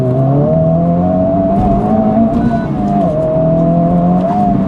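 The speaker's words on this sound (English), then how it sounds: "I'm gonna do a first gear, second gear, third gear pull and see how this thing, it's gonna spin" A Honda Civic Type R FL5 with a new downpipe roars loudly and continuously, the engine tone climbing and dipping as it pulls through first, second and third gear, with no talk over it.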